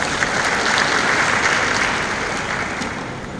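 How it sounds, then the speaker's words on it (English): A conference audience applauds a speaker at a global economy forum, with dense, sustained clapping filling the room before gradually thinning toward the end. "Please give another round of applause to Michael."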